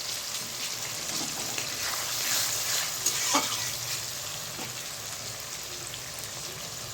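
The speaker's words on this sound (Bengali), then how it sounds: "পেস্টটা আমার ভাজা ভাজা হয়ে গেছে" A paste of eight to ten onions browns in a pot for a mutton and potato curry, producing a steady, moderately quiet hissing sizzle with a few brief stirring scrapes midway and no talk.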